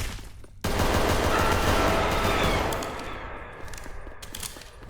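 Pistol gunfire in the Roblox horror game Examination: a sudden loud burst that starts abruptly and holds as a dense, sustained roar for several seconds before easing off slightly.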